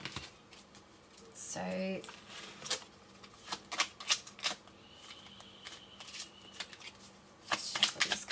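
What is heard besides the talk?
shuffling tarot and oracle cards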